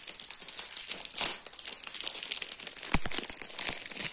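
Crinkling and tearing of a Wankul trading card booster pack being opened, a steady close-up rustle of foil wrapper with sharper rips near the end.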